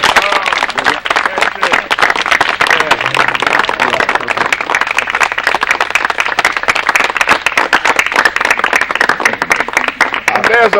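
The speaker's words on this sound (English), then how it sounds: "Now let's round of applause." A loud, close round of applause from a group at a haunted trail event, with sharp individual claps packed into a steady, continuous patter that runs unbroken to the end.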